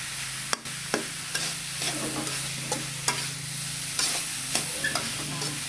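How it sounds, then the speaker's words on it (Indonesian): Tempeh and spices are stirred in a hot pan. A constant close sizzle runs under sparse scraping ticks from a spatula, with a steady low hum in the background. "Nah, kita aduk terus sampai merata ya"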